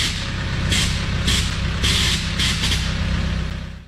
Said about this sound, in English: So this nitrous purge, unfortunately, purges very small.